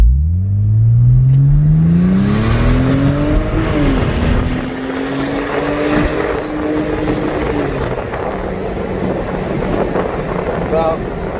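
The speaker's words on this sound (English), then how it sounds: "We might be able to get some good engine noise." Porsche 996 Turbo Cabriolet upgraded to 550 hp accelerating with the top down, engine note climbing sharply through a gear then settling into a steady high drone, loud and close with heavy wind rush over the microphone.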